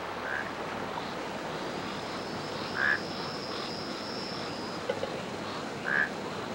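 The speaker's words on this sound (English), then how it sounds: "Much of the prevailing noise in the forest came from the humble frog" Frogs call in a tropical forest, with a few short, bright croaks spaced a second or more apart over a steady, faint wash of background noise.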